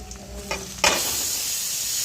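Onion, tomato, green chili and coriander drop into hot oil in a pan: a few soft clinks, then a sudden loud sizzle burst that settles into a steady hiss.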